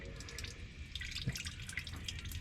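Water dripping from the rear end of a 1969 Minneapolis Moline U302 tractor, a steady irregular patter of close drips and trickles into a pan, with a slightly louder splash midway.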